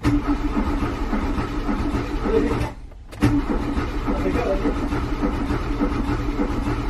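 Volkswagen Golf engine cranking on the starter with a loose spark plug, a steady nearby churning whir that drops out for a moment and then cranks again, with faint voices in the background.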